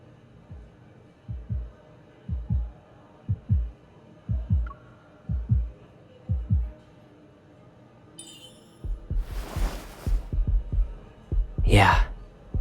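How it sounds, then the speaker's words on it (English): A heartbeat-detecting device in the Love and Deepspace video game plays a steady, deep double-thump pulse, loud and close. It is overlaid by a rushing whoosh and a rising tonal sweep near the end. "Now we're hearing our heartbeats."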